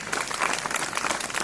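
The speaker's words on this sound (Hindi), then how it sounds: "जोरदार तालियां सुमन के लिए" A brief burst of dense applause from a crowd at a student debate competition, many hands clapping together at an even, moderate volume.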